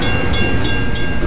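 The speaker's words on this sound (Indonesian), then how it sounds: "Gerbang penyeberangan ditutup. Kita harus menunggu hingga kereta lewat." A train rumbles past a closed railway crossing in a mobile house-building video game, with a steady, loud rolling sound filling the whole moment and faint periodic clicks on top.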